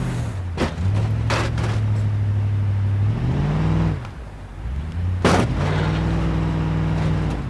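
A car in BeamNG Drive at Hirochi Raceway revs its engine in sustained, rising and falling tones, broken by several sharp crash impacts early on and one heavy bang midway.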